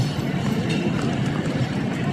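The 17 Millat Express train pulling out of Landhi railway station in Karachi, a continuous close rumble and rattle of rolling carriages that stays steady throughout with faint background voices.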